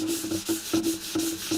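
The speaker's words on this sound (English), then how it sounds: "Sandpaper is not picking up a bunch of oil that's on the surface." Sandpaper rubs back and forth over a dried shellac finish on a wooden folding table in steady, close, loud strokes with a rhythmic scratchy swish and no voices.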